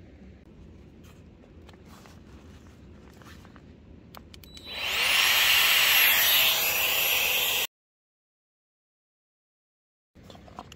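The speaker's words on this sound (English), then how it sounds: "We're going to pump up this pad." An Aerogogo Giga Pump 2 inflating a camping sleeping pad: a loud, steady electric whir switches on partway in, holds for about three seconds, then cuts off abruptly into silence, close by with no talk.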